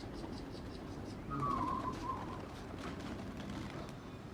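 A Mardin tumbler pigeon gives a brief soft coo over faint outdoor background noise on a hazy day, with no one speaking.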